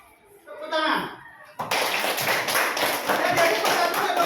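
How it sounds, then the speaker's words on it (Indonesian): A school class claps hands after a brief murmur of children's voices, the clapping starting abruptly and continuing as a loud, lively burst of many small hands to the end. "ya, tepuk tangan"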